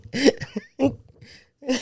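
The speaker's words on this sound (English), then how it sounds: "Yeah, coughing up a storm" A child coughs and clears the throat in a few short, raspy bursts separated by brief pauses, close and fairly quiet.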